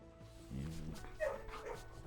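A puppy in the video game Blue Prince gives a few soft, yipping barks and small whimpers. The sounds are faint and close, with a low game backdrop.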